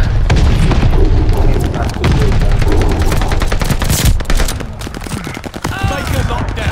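Grenade blast and rapid gunfire in Call of Duty Vanguard Domination multiplayer, a loud, dense barrage of shots and booms running throughout with a heavier explosion near the middle, with voices talking under the combat.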